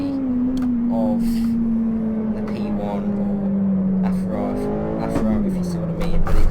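A LaFerrari engine in Assetto Corsa drones steadily, with pitch shifts as it changes gears, under a voice talking over it.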